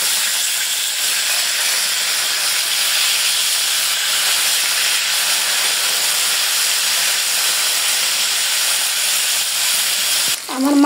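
Rohu river fish just turned over in a pan of hot oil, giving a loud, steady hissing sizzle that runs unbroken, with a short knock and shuffle right at the end.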